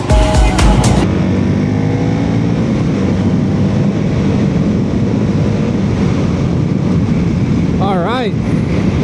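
A motorcycle running a Taco Moto ECU rides at night with a loud, steady engine drone. Heavy wind buffets the microphone close up throughout the run, and a brief whine rises near the end.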